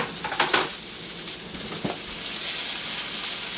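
Jalapeno and green onion frying in an oiled pan, a steady close hiss of sizzling oil with a few clinks and stirring scrapes early on, rising slightly toward the end.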